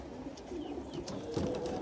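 Racing pigeons back at their loft after a race coo softly in short, low calls against a faint background hum.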